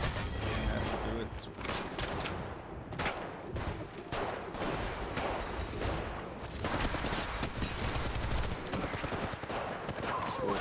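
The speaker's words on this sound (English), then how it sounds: "I have to shoot him." Gunfire in the mobile battle royale Apex Legends Mobile, rapid bursts of shots and mechanical clatter running through the whole stretch, fairly quiet and dense, with a voice talking now and then alongside.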